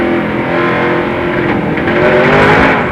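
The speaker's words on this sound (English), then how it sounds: "You can hear him feather the throttle because he couldn't go nowhere, and Steve Park jumps on the throttle" NASCAR race cars in the 2001 CVS Pharmacy 200 Busch Series event, a loud continuous engine roar as a driver feathers the throttle and another car accelerates hard nearby, no talking.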